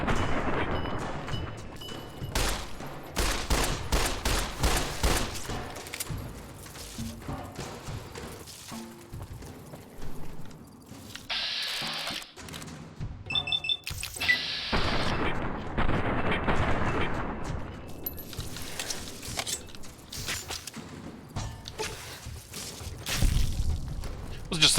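Repeated gunfire from Fallout: New Vegas while shooting a creature's limbs, rapid bursts of shots and heavy impacts throughout, mixed with game sounds and someone talking over the action.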